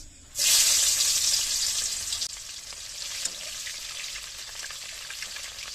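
Onions hit hot oil with a sudden loud hiss that swells into a bright, steady sizzle, then settles into a softer crackling fry for several seconds, close and alone.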